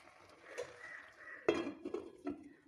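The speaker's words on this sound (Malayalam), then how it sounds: "പെട്ടെന്ന് തന്നെ മൂടി വെക്കട്ടെ" A lid set onto a pot of jackfruit aviyal, a few soft metallic clinks and a clatter, faint and close in a quiet kitchen.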